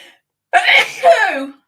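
After a short silence, a person lets out a loud, close sneeze with a breathy, drawn-out tail.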